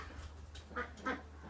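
Ducks and ducklings in a farmyard on a frosty day give a few short quacks close by over quiet background hum.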